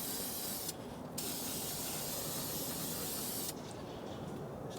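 An aerosol spray paint can hisses steadily onto a motorcycle engine case from a 1972 Harley Sportster ironhead. The spray is close and continuous, with two short breaks in the stream.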